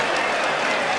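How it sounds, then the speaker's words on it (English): Dense roar of an arena crowd at a Saint Mary's versus San Francisco college basketball game, loud and unbroken for a brief second, with clapping blended into the wall of cheering. "Listen to that crowd."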